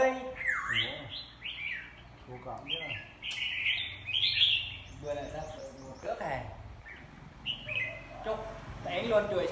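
A caged red-whiskered bulbul sings in practice, repeated bright chirping phrases rising and falling near the microphone, while people chat in Vietnamese nearby and other birds call in the background.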